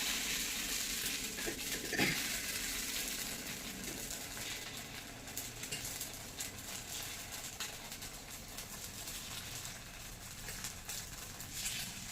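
Appam batter, about a teaspoon, poured into a hot pan, giving a steady hiss and sizzle close by with a brief splashy pour near the start, continuous and fairly even throughout.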